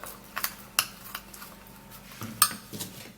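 A utensil stirring a potato starch mixture in a bowl, giving sharp intermittent clinks and scrapes against the bowl at an irregular pace, fairly close and with no voices.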